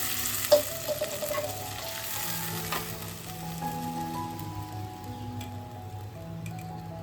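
Ground spice paste fries in tempering oil for a brinjal curry, a loud, continuous close sizzle with crackling and one sharp clank near the start, then occasional stirring scrapes, with no talking.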